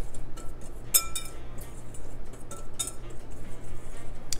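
Dry ingredients of flour, salt and baking powder stirred in a bowl for biscotti, with utensil clinks against the bowl and light scraping at an irregular rhythm.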